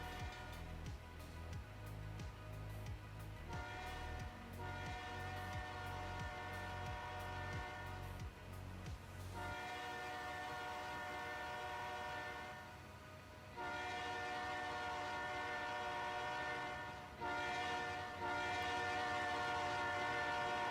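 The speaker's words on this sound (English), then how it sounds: "So this is the reefer train coming back south from the Little Rock Junction, and it is loaded this time." A loaded refrigerated freight train in the game Trainz 2019 rolls past steadily, its low engine rumble giving way to a long, continuous tonal drone of cars passing at moderate distance.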